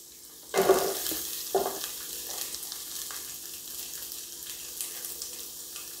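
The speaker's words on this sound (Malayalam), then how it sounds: "ഇതൊന്ന് ചൂടായിട്ടുണ്ട്. അതിലേക്ക് നമുക്ക് ഒരു സവാള അരിഞ്ഞിട്ട് കൊടുക്കാം." Sliced onion hits hot oil in a pan for a Kerala vegetable stew, bursting into a loud sizzle with a second splash, then settling into a steady frying crackle with soft stirring, no talk.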